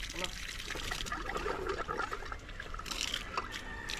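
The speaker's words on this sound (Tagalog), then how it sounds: "Papunta pa lang dito yung tubig niya" Water trickling and flowing along a newly built drainage channel at a house project, a light, uneven gurgle and splash close by, heard under ongoing conversation.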